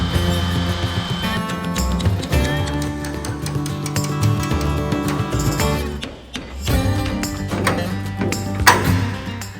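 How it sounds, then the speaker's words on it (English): A drill running through thin aluminum rivets on an old airplane wing in long continuous runs, with a brief pause partway before the drilling resumes, loud and close. "So I'm just going to like double drill them."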